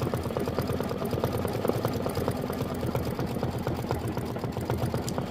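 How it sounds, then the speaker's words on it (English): An embroidery sewing machine stitching a tack-down on a quilt block runs with a steady, fast mechanical chatter, a continuous even rhythm at moderate loudness with no pauses. "And now it is stitching the tack down"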